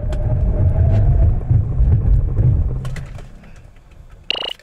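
A 2019 Lincoln Nautilus 2.7T AWD in a braking test, a loud low rumble of the vehicle and road noise that fades to near quiet, followed by a brief higher squeal at the end.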